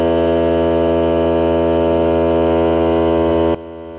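A Hart cordless air compressor runs during break-in, producing a loud, steady motor drone with a strong humming buzz close to the microphone that abruptly cuts to a quieter hum near the end.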